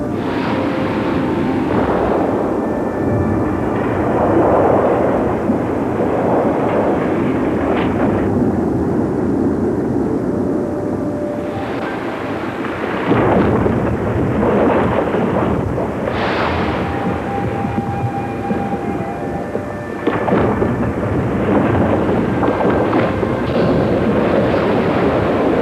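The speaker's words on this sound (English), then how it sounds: "listen to what the Tlingit Indians called white thunder, calving glaciers" Alaskan glaciers calve into the water, a series of deep, booming cracks and rumbling thunder-like crashes that rise and fall over a continuous low roar, with several heavy impacts spread across the stretch.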